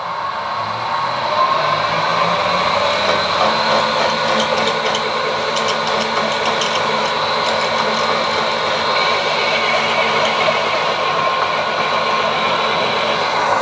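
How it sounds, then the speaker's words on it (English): A 5mm carbide milling cutter spinning fast as it pecks at a broken bolt, a loud continuous high-pitched whine and grinding hum holding steady throughout, with faint clicks and chatter layered on top and no talking. "I've got a 5mm carbide milling cutter in there. The idea is to run it really fast and just peck at it."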